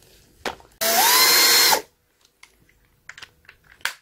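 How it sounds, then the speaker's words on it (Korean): A power drill/driver runs for about a second in one loud continuous whir, driving screws for a curtain rail in a home, followed by quieter clicks and handling noises. "저는 전동 기구가 있어서 저는 요걸로 할게요."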